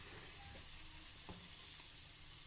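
Garlic fries in hot oil for garlic sauce, a soft steady sizzle with faint crackles, fairly quiet and uninterrupted.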